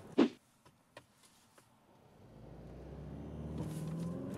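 Mercedes E 220d diesel accelerating hard in sport mode, a low engine rumble building steadily and pulling stronger, with a jolt from the automatic gearbox shifting near the end after a few faint knocks and clicks.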